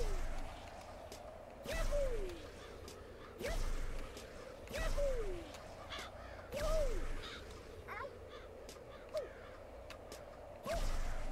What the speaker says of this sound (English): Once again, crows, why are you just congregating where I'm trying to be at?